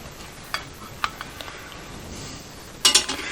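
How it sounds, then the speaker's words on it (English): A spoon clinks and scrapes a few times as cauliflower bites are spooned into the crisper basket of a Ninja Foodi, ending in a short cluster of rattling knocks. "It's time to spoon all these cauliflower bites into the Foodi and get ready to cook them"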